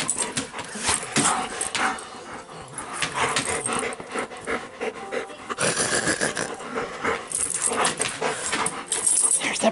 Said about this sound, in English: There's the bratty dogs.